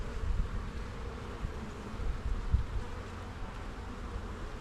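Honeybees on the comb in a hive after swarm checks, a soft, steady low hum and buzz with occasional louder passes, calm rather than roaring, and no voices.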